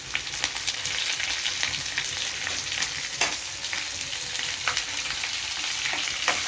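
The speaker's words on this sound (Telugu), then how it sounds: "ఎర్రగడ్డ వేగినాయి కదా ఎర్రగా" Onions fry in a pan for a Telugu-style chutney, a steady close sizzle with small crackles and occasional stirring scrapes, running alone without voices.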